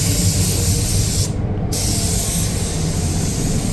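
A spray gun lays a primer coat on a Nissan Skyline R34 GT-R, giving a loud, continuous close-up hiss with a brief dip midway, with no talk.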